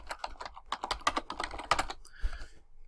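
Quiz question being typed on a computer keyboard, a quick, uneven run of close, crisp key clicks for nearly two seconds, then a couple of scattered taps with no talking.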